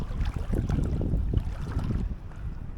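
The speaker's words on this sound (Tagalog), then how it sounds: "Mahangin na nga" Steady wind buffets a microphone on a shoreline during rainy shore-cast fishing, a broad low rumble with gusty surges and no pause across the whole stretch, loud and close.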